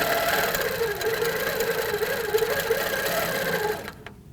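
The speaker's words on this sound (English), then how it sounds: "Then when I stitch, the top thread looks good." An HQ Avanté quilting sewing machine stitching steadily, its close, even mechanical hum and rapid needle rhythm running continuously before stopping near the end.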